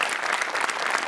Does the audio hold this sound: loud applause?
yes